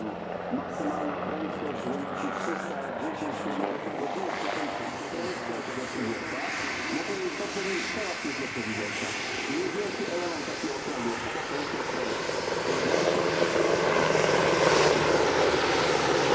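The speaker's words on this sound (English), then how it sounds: "test pilots from AgustaWestland, flying the AW101 and AW149" AgustaWestland AW101 and AW149 helicopters flying at an airshow, a steady broad rotor and turbine roar that swells slightly toward the end, heard at a distance with crowd noise and a voice over it.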